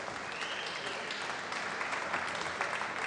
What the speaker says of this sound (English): And an appreciative applause from the crowd